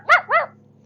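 A dog gives two quick, sharp barks close by, loud and alone, over a faint steady low hum.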